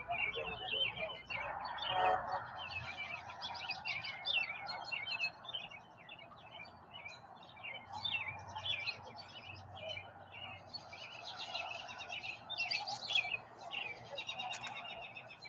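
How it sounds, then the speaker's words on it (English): Many birds chirp and tweet continuously in quick, overlapping bursts, fairly loud against a low background hum. "Yeah, the birds are really loud."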